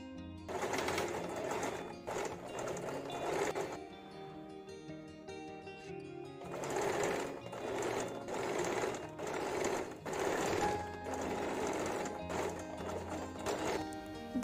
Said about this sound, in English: Now press the tunnel like this and sew along the edge.